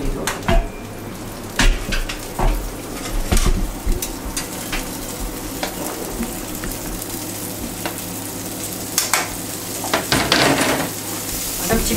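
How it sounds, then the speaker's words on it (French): Carrot tagliatelle and snow peas sizzle in a hot pan, a steady close frying hiss broken by the clatter of stirring utensils against the pan. "on va pouvoir commencer à mettre les derniers légumes, donc les tagliatelles de carottes, les pois gourmands, cuisson très rapide"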